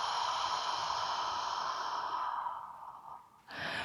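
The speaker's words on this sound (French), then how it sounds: "Et expire comme si vous faites la buée sur une vitre." A long, slow exhale through the mouth, as if fogging a glass pane, during home yoga breathing practice. The close, breathy sound gradually fades, then a fresh breath begins.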